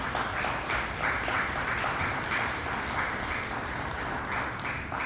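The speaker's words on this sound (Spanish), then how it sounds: "un aplauso para Francisco Noel" Sustained audience applause fills a hall at an academy induction ceremony, a steady wash of many hands clapping at even loudness from start to finish with no voices on top.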